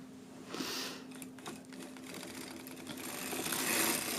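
A hand-cranked circular sock knitting machine, used to knit a hat hem, whirs and clicks softly and steadily with rhythmic mechanical ticks, fairly quiet and close.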